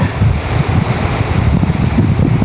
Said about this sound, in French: si le vent m'emmerdait pas un petit peu, ça serait pas mal